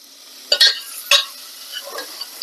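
Chicken browning in a frying pan, two sharp bursts of sizzle and stirring scrapes over a faint steady hiss, close and brief, with no speech.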